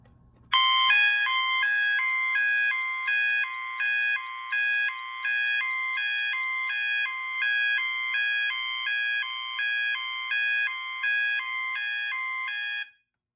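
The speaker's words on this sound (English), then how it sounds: "When pressed, it will indicate a supervisory condition on Zone 4 and sound the MA sounder" A Notifier SFP-400B fire alarm panel sets off its MA sounder for a supervisory condition: a loud electronic beeping tone that starts abruptly, pulses in a fast, even rhythm for about twelve seconds, then cuts off.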